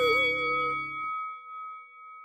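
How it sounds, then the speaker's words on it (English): A wrestling match bell rings once with a clear metallic ding that hangs on and fades. A voice is heard briefly just before it. "They are both on the ground, and you hear the bell."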